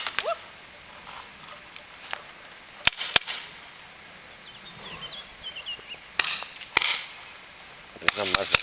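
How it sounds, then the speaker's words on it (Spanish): Paintball markers firing during an outdoor paintball match, sharp scattered cracks, some single and some in quick pairs, spread over a quiet field background, with a few clustered shots near the end. "Te están disparando por tu izquierda, Azul, ten cuidado."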